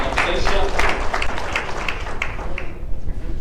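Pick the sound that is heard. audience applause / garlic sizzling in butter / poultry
audience applause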